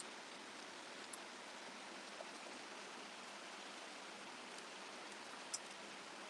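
A neighborhood creek in the mountains rushes steadily in an even, broadband wash of water, soft and unbroken for several seconds with a few faint clicks and no voices.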